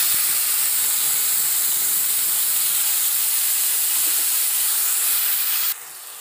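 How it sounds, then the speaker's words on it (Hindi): Ground masala paste and two bay leaves sizzle in hot oil, a loud, steady, close hiss that holds evenly, then drops off abruptly near the end. "तेल गर्म हो गया है, अब हम इसमें डालेंगे 2 तेज़पत्ता, पिसा हुआ मसाला ऐड करेंगे।"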